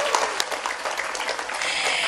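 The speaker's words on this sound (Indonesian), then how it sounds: "tepuk tangan dulu dong" Audience applause at a Thursday morning Islamic study gathering: a dense, steady wash of clapping hands that fills the whole moment evenly, with no talking over it.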